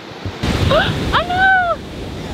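Ocean surf rushing onto a rocky Oregon beach at Lone Ranch, a broad roar with gusty wind buffeting the microphone, while a woman cries out in alarm over the waves.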